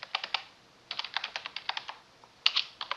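Someone types on a computer keyboard, quiet and close: bursts of several quick key taps with short pauses between them, no voices.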